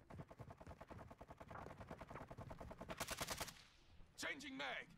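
An M4 rifle in Modern Warfare 2 fires a long, evenly spaced stream of rapid automatic shots. The firing stops abruptly and is followed by a short burst of voice.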